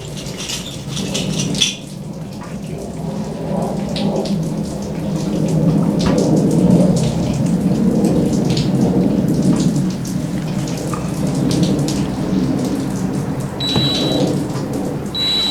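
Melting snow drips steadily off a carport roof, a dense continuous patter like rain that stays fairly loud and even throughout with no voices.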